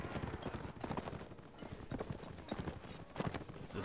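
Horse hooves clip-clop over ground in a Mount & Blade tournament battle, uneven galloping beats mixed with scattered impacts and clatter at a fairly low level.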